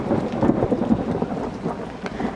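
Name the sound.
thunder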